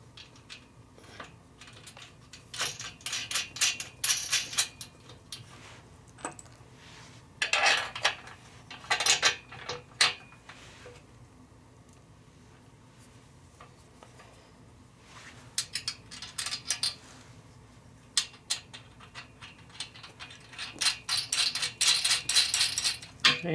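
Carriage bolts and nuts with washers being tightened on a metal mobile base for a Delta Unisaw, producing bursts of metallic rattling and clinking ratchet-like clatter, close up, with quieter pauses between.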